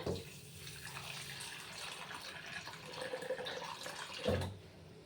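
Water runs from a tap into a vessel of samo (barnyard millet) set to soak in a home kitchen, a continuous close filling sound with a brief clink near the end.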